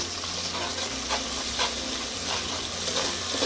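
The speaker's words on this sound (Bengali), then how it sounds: "লো টু মিডিয়াম করে রেখে এই পেঁয়াজটাকে একটু ভেজে নিতে হবে।" Onions frying in a pan over low to medium heat, a steady close sizzle and crackle with soft stirring throughout.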